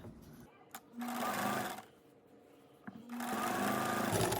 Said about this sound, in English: when I top stitch it, what I want is I want to stitch along this edge very close to the seam